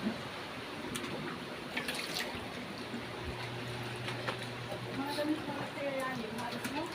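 Typhoon floodwater flowing steadily into a house, a continuous close trickling and rushing of water with occasional splashes, under a low background hum.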